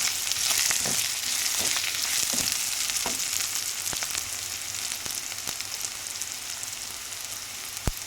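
Capsicum pieces and curry leaves fry in a pan for an egg-capsicum fry, a steady close sizzle with scattered crackles and pops running throughout, no voices.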